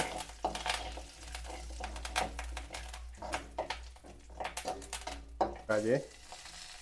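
Curry leaves and cumin sautéing in a pan over a low flame: a steady, close sizzle broken by stirring scrapes and occasional clinks of a utensil against the pan throughout.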